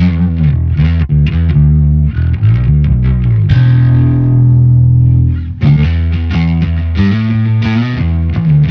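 Bass guitar fed through distortion effects, thick and loud, playing a riff of low fuzzy notes with one long sustained note in the middle before the pattern resumes.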